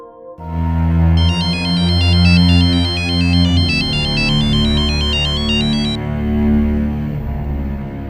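A bright electronic ringtone plays a repeating melodic pattern for several seconds, loud and close, over a steady low musical backdrop.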